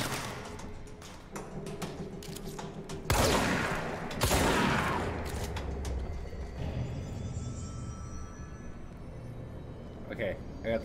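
Gunfire and loud thumping impacts in the video game Control, a dense burst of shots with heavy bangs around the middle under ongoing talk and game rumble.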